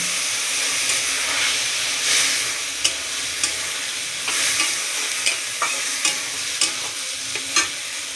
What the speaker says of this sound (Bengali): এবার আমরা সিদ্ধ করা ডালটা দিয়ে দেব